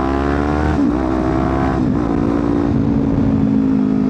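A Kawasaki Ninja 400 inline-two engine revs hard and loud, its pitch rising and dipping between gear changes in a continuous close, buzzy wail.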